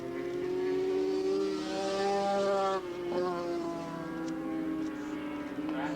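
Yamaha RZ Cup racing motorcycles at Willow Springs International Raceway in 1985 give a sustained, buzzing, high-revving engine drone that shifts pitch as they pass, heard at a distance under a commentator's voice.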